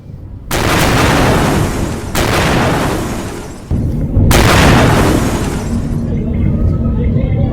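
Three heavy blasts from an Israeli strike on Hezbollah targets in Lebanon, each a sudden loud boom at roughly one-and-a-half-second intervals, followed by a long rumbling roar that never fully fades between them.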